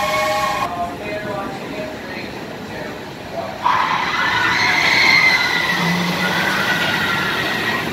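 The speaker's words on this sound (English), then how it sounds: "which is, of course, a mine train roller coaster" A mine train roller coaster at Cedar Point rumbles along its track, a steady rolling roar that swells midway with a rising tonal whine, heard from nearby in an amusement park.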